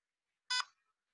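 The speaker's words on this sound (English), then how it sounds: "You might hear it beep." A single short electronic beep from a LEGO Education EV3 programmable brick, heard once at moderate distance against an otherwise silent background.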